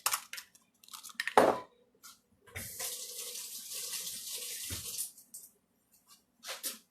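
Tap water runs into a cooking pot in a home kitchen, starting with a few short splashes and then a steady rushing pour that stops and restarts briefly, fairly quiet.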